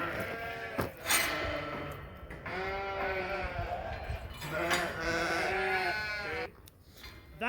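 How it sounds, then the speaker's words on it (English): Nine ram lambs on a sheep farm bleating almost continuously at close range, overlapping wavering calls rising and falling over several seconds, some louder and nearer than others. "I'm going to bring in these 9 ram lambs wherever they are."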